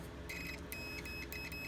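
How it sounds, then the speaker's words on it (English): A handheld continuity tester beeps while the wiring of a 50-amp to 30-amp RV power adapter is checked. Several short, high, faint electronic beeps come in quick irregular bursts over a low background hum. "I'll take a continuity tester and put it on where you can hear it when it beeps."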